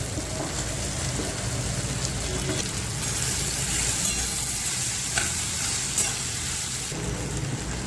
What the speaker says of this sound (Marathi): आता मी भेंडे टाकत आहे